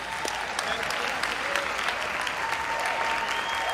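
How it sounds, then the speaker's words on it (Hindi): A crowd at a Delhi poetry festival applauds to welcome poet Sudeep Bhola, a loud, continuous roar of clapping that stays even from start to finish. "एक बार जोरदार तालियों के साथ सुदीप का स्वागत करें"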